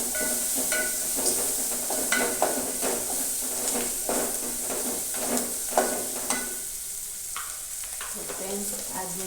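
Green chillies fry in hot oil with mustard seeds, cumin, asafoetida, turmeric and salt, a steady close sizzle with repeated scraping and clinking stirs of a spoon in the pan.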